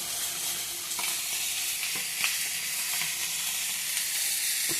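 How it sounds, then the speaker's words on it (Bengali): Four chapila fish fry in hot oil with a steady, loud, close sizzle and hiss that continues without a break, and a few soft stirring clicks come through now and then. "আর এই চাপলা মাছ আছে 4টা ভাজা খাওয়ার জন্য"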